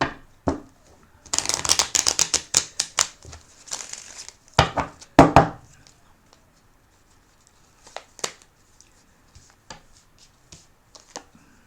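Sibilla oracle cards are shuffled in quick, close papery riffles for a few seconds, then a couple of crisp snaps, followed by scattered soft taps and card slides in near silence.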